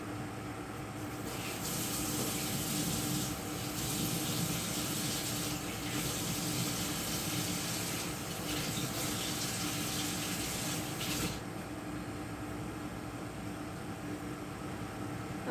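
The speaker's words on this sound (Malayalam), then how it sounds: "നമുക്ക് ഇച്ചിരി വെള്ളം ഒഴിച്ചങ്ങ് കഴുകി കളഞ്ഞാലും മതി" Water poured and running steadily to wash off a homemade face pack, a continuous close hiss and splash with a few brief surges, no talking.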